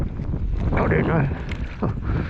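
Strong outdoor wind buffets the microphone on a fishing trip, a steady low roar with gusts, while a voice talks briefly over it.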